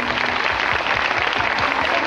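Applause from an outdoor audience at a cultural stage show in Santa Maria, a steady dense patter of many clapping hands at moderate level, with a faint low murmur beneath.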